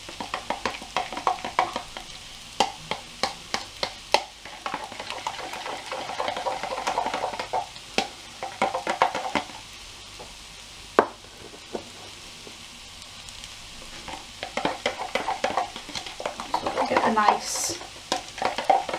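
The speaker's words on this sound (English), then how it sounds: "I'm just going to add a touch of the dried parsley and I'm just going to mix that through" A potato and onion tortilla mixture is stirred in a frying pan with dried parsley, giving a steady sizzle broken by repeated scraping and clacking strokes of a utensil, some louder, over about twenty seconds.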